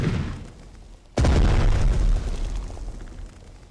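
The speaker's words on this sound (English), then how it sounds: "I want all cannons firing on that target!" In the video game Strategic Mind: Blitzkrieg, a single heavy cannon boom bursts out suddenly after a low rumble, then rolls and fades slowly, like a big cannon blast close by.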